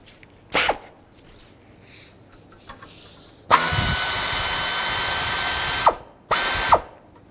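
A socket ratchet removes 10 mm bolts from the water pump on a 2010-2017 Chevrolet Equinox: one sharp click, then a loud, steady ratcheting run of a couple of seconds, followed by two short bursts, close up with no talking.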